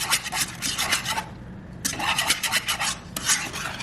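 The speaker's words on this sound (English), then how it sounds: "You're whisking all of that together." Butter being whisked with garlic for Cajun shrimp and grits, a rapid scraping rasp of a whisk against the pan in close, steady bursts with a short pause in the middle.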